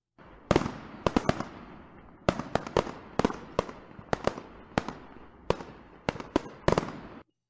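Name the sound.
fireworks exploding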